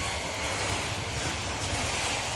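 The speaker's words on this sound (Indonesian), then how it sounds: "Inilah detik-detik angin kencang menerjang Desa Pusporenggo," Strong wind gusts sweep through a village in Boyolali, Central Java, a steady broadband roar with no voices, loud and continuous throughout.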